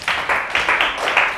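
A classroom of students claps for a classmate, a short burst of several uneven waves of applause lasting just over a second, fairly close and lively.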